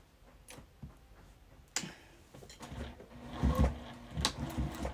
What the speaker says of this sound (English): Now I'm just going to sew down here the same as I did the other